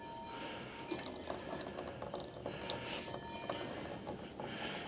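Gasoline trickles and drips steadily from the fuel tank of a 1999 ZRX 1100 motorcycle into a pan below, a faint, continuous liquid patter at close range without voices.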